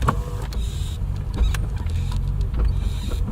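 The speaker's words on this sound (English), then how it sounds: "I'll lower the window, it makes it a little bit more evident." A 1990 BMW E30 325i Touring's power window motor whirs steadily as the glass lowers, close up, with faint cabin and road rumble underneath.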